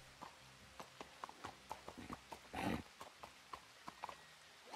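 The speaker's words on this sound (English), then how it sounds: "I got a donkey." Donkey hooves clip-clopping in a zombie video game, a steady series of soft, close hoof thuds in an uneven walking rhythm, with a short rustling burst midway.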